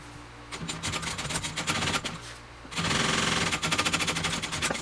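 Sewing machine top stitching backpack fabric, close rapid needle clatter in two runs, the second faster and louder after a brief pause.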